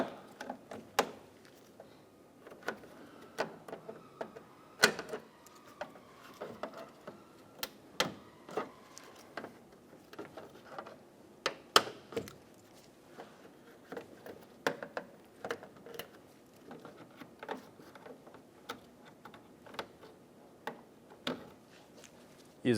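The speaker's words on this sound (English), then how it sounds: "Using a trim tool, we're going to pop all of the plastic clips out of the top trim." Plastic trim clips on the top trim of a Chevrolet Sonic are popped loose with a trim tool, giving scattered faint clicks and sharp snaps at irregular intervals amid quiet handling and rustling.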